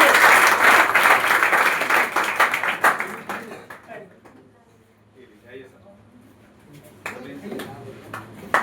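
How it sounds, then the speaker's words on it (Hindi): A crowd at a student award ceremony at a coaching centre in Bihar gives a student a dense, loud round of clapping. It dies away to near quiet, then a short burst of clapping returns at the end. "जोरदार तालियां मुस्कान की तरफ से।"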